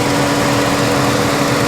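A Chevrolet Cruze with the GM Ecotec 1.4L turbo engine idles steadily at close range, a constant dense hum with a faint whine on top and no speech.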